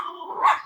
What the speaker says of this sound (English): I'm sorry, my dogs are going ballistic.